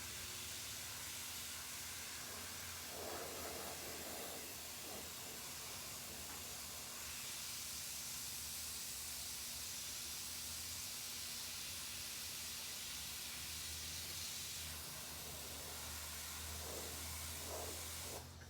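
A master airbrush sprays in a steady, continuous hiss that runs almost the full length, fairly close and even in level, with faint background tones and no talking.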